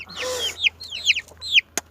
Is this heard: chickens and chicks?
yes